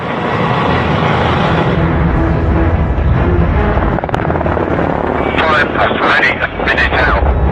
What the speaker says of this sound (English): Unless, of course, you've got a chopper.